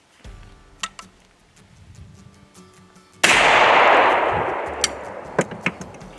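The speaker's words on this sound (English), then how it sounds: "let's shoot this thing." A 100-year-old single shot shotgun fires one loud blast that cuts in sharply and leaves a long, broad decaying roar, with scattered handling clicks before and after.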